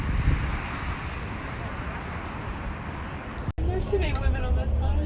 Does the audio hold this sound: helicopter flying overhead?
yes